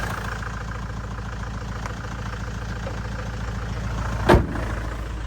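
A 6-ton Iveco truck engine idles close by with a steady, low, rumbling throb, broken by one sharp knock or clunk near the end.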